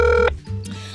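A telephone call is placed during a Korean radio talk show, with a short, bright electronic ring tone sounding for a moment before it cuts to quieter line noise; no one speaks.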